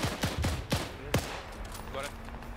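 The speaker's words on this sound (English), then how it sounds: "We're hearing vehicles cooking off." Vehicles cooking off in a WW2 Germans-versus-Soviets battle game, a rapid series of sharp cracking pops in quick succession, then a scattered distant rumble.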